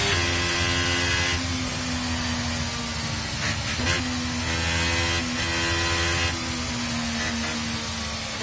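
A Formula 1 car engine in the F1 23 video game holds a steady, droning rev throughout, with brief shifts in pitch as it changes gear, loud and continuous with no talking.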